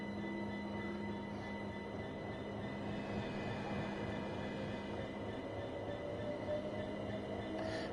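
Freight train on an intermodal service in Train Sim World 5 on the North London Line, heard as a steady rolling rumble with faint wheel squeal and tonal hum, continuous throughout.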